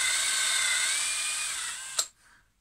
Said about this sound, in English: we're going to drill another hole for the arm